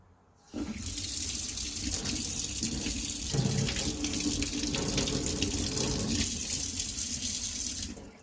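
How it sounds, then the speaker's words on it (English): Tap water runs steadily into a sink for several seconds, a continuous close splashing rush with slight shifts as a toothbrush is rinsed under it. "And wash the toothbrush with the water."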